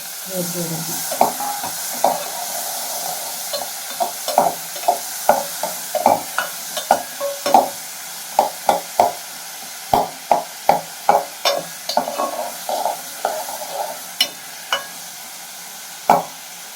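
Onions and tomatoes sauté in a pan for bottle gourd koottu, a continuous sizzle punctuated by regular sharp scrapes and knocks of a spatula stirring, close and fairly loud, with no talk.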